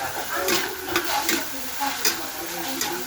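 Adobo sizzles and fries in a pan while being stirred, a steady loud crackle broken by repeated scraping strokes of the utensil at an even rhythm.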